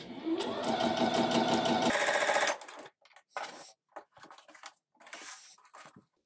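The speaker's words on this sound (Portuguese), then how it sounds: "Passo a linha para trás do calcador e inicio uma nova costura." A domestic sewing machine starting a new seam, a loud, rapid rattling run of stitches for about two and a half seconds, then silence broken by short bursts of fabric handling.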